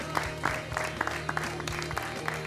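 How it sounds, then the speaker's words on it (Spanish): Studio audience applause on a TV game show, a moderate, even patter of many hands with a few sharper claps, set against a low steady hum. "El aplauso grande para ellos."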